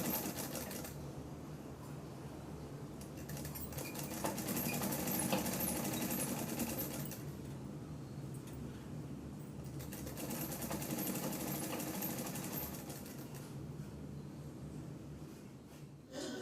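Sewing machine stitching a folded hem on a Punjabi dress, a fast continuous mechanical whirr running in two long stretches with a brief slowdown between them, close and steady with no voices.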